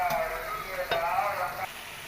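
Chicken curry sizzles steadily in a pan as chili powder is stirred through it, with a single sharp scrape of the spoon partway and the frying hiss continuing close and fairly loud, no talk.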